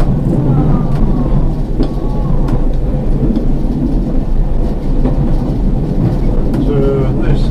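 A Wensleydale Railway bubble car railcar runs between Redmire and Leeming Bar, heard from the cab as a steady, heavy low rumble of engine and wheels with occasional rail clicks. Throughout the run a few faint squeals rise above the rumble.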